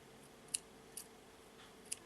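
Small scissors snipping jewelry thread on a cowrie shell necklace, three quick crisp clicks close by in a quiet room.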